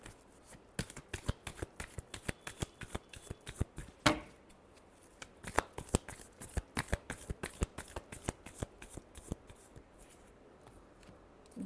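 Tarot cards are shuffled by hand in a quiet room, a rapid run of crisp, close riffling flicks in an uneven rhythm with no talking.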